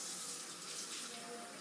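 Cold water pouring steadily from a kitchen sink tap, a continuous close hiss and splash throughout, with no speech over it.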